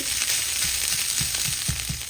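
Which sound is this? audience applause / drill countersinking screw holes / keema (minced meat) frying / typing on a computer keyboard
keema (minced meat) frying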